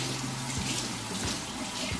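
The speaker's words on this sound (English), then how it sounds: "You take some warm water and just a normal sponge that you have in your house." Warm water runs steadily from a tap for cleaning a wooden cutting board, a continuous close splashing hiss without pause.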